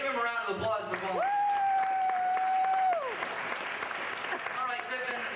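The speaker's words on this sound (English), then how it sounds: "everybody give him a round of applause before" Audience at a comedy show applauding with clapping, cheers and a long sustained whoop, loud and continuous, while a voice speaks over the start.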